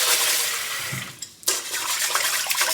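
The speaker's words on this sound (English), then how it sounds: "And then you just have to wash the rice." Water pours and splashes steadily as rice is washed in a pot, a close, loud rush with a brief lull partway through before the flow resumes.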